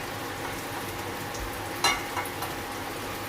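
Dried red chillies roasting in a hot pan for chammanthi podi, giving a steady, close, dry sizzle and crackle with a brief sharper scrape or stir near the middle, no voices.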